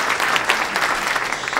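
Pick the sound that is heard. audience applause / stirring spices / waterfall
audience applause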